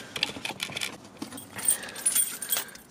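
Car keys for a 2006 Scion tC jangle close up in a series of bright metallic clinks and rattles, with two denser flurries and no talk.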